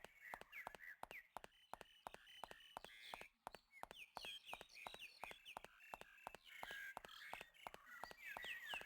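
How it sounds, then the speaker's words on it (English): Birds sing in the video game Flower, Sun, and Rain, a dense run of quick bright chirps and short trilled calls repeating in rapid rhythm, clear and close, with no talk. "Listen to those birds singing."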